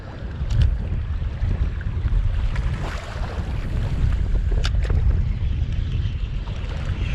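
Strong wind buffets the microphone on a rocky Irish coastline during sea bass fishing, a loud continuous low roar with gusty swells and a few faint higher clicks, no voices.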